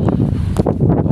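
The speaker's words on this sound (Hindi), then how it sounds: "फुल हवा चल रही है और बूंदाबांदी शुरू हो चुकी है" Strong wind buffets the microphone at a railway station in rainy, cloudy weather, a steady, loud, close rush of gusty noise throughout.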